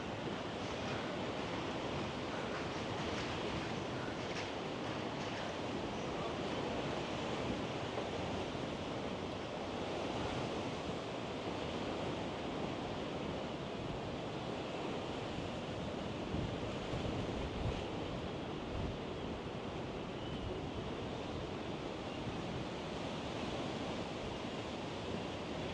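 Strong wind buffets the microphone throughout a seaside walk between Blackpool's central and north piers, a continuous loud roaring rush with surf-like wash and no talking.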